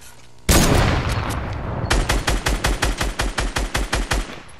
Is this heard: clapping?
no